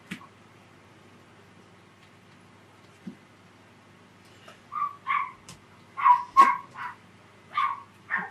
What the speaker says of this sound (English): So somebody's dog is out there.